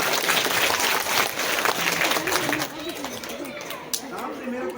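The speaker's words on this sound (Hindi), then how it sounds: "एक बार और ताली बजा दो।" An audience at a National Girl Child Day programme at a government senior secondary school breaks into dense, sustained applause that thins out after a few seconds, with talking heard over the tail.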